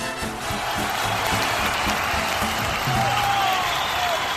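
Crowd applause with scattered cheering fills the clip at a steady, fairly loud level from start to finish.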